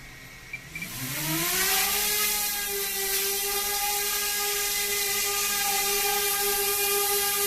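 A DJI Mini SE drone, carrying an F1 grenade for balance testing, spins up its motors from a few clicks into a rising, high-pitched whir that settles into a loud, steady whine close by.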